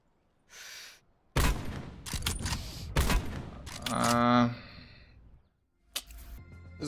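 Gunfire in Call of Duty Black Ops 4 Blackout comes in sharp, close bursts and single shots, with a mechanical rattle and clatter between them and short gaps of silence.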